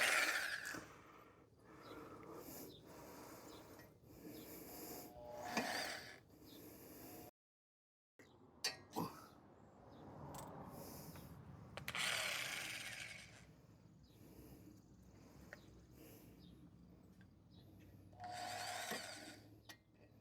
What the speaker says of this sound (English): The most important thing to remember whenever you're drilling to tap is that you want to get right in the center